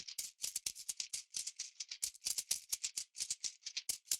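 A steady, quick shaker rhythm through a low-pass filter, with soft, muffled hits, the brightness rolled off so each shake sounds dull and rounded.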